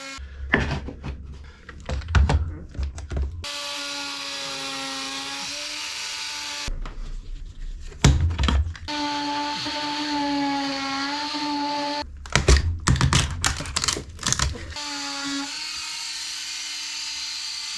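A power tool cuts into a damaged wooden boat deck to make a Dutchman patch during a wooden boat restoration. It comes as three loud, droning bursts separated by short pauses, with no talking.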